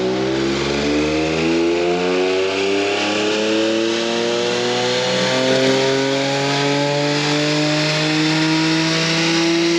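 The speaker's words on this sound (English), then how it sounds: "Then literally just floor it to redline." A BMW M4 engine revs hard on a dyno in a mid-range gear, likely third, climbing steadily toward redline in one loud, sustained rising roar with no talk over it.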